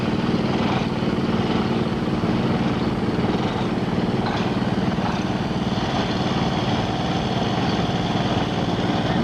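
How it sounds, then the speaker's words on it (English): Small engine-driven power packs used to steer a house being moved down a street, a loud steady droning engine running continuously without pause. "Now you can see these power packs where they're using them to steer."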